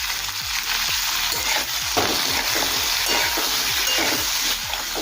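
Pointed gourd and potatoes frying in a pan, a steady close sizzle with regular rhythmic scrapes of a spatula stirring the vegetables.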